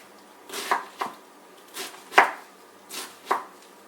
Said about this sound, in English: I'm just going to take the cabbage and I'm just going to chop it pretty small